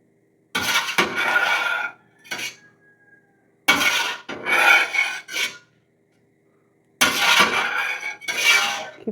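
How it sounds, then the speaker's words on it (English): A spoon scrapes and rasps around a pot of goat cheese curds in bursts of stirring, close and fairly loud, with short pauses between strokes. "Give these curds a quick"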